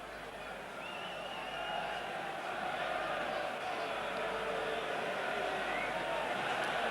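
A huge crowd fills Central Park during a 1994 rugby league Challenge Cup semi-final between Leeds and St Helens, producing a steady, loud wash of roar and chatter that swells slightly and never drops away.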